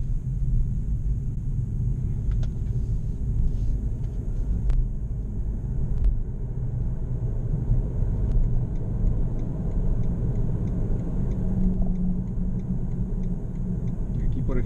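A 2017 BMW i3 electric car with range extender slows down on its own under automatic regenerative braking, heard from inside as a steady low road rumble and tyre noise that continues evenly throughout, with no voices.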